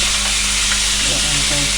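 Eggs frying in a hot wok, a loud continuous sizzle with faint stirring scrapes, close and without talking.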